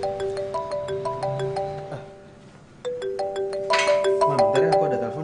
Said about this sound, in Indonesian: Ma, bentar ya, aku ada telepon.